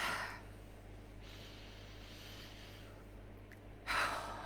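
A slow, deep breath drawn in and let out during a guided meditation, soft and close, with a sharper audible exhale near the end over a quiet hum of the room.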